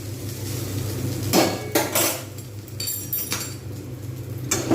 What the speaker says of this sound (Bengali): এভাবে আমি এটা নাড়িয়ে নেব।